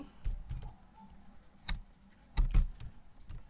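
Light typing on a computer keyboard, a few scattered soft key clicks in short bursts, close and quiet with no talk.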